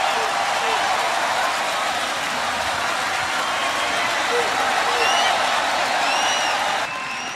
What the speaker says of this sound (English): Listen to the crowd reaction.